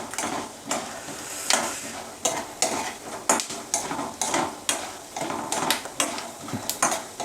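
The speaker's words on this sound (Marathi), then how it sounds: "असं मस्तपैकी भाजून घ्या शेंगदाणे." Peanuts being roasted in a pan with a spoon give off rhythmic scraping and rattling strokes, about one every half second, close and steady, with a faint sizzle beneath and no speech.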